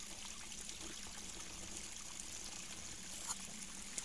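Spring water trickles over clay at a natural spring. It is a faint, steady, close-up dribble with soft bubbling, and no one speaks.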